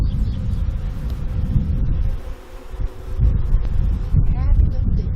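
Honey bees being moved to a new home hum continuously nearby, rising and dipping in loudness, with some wind buffeting; a voice may briefly sound in the background.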